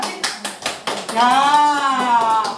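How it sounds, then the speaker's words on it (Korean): Sharp hand claps sound in quick rhythmic groups during a dementia-prevention clapping exercise, close and crisp, followed by a sustained voice singing or calling out. "박수 세번 시작"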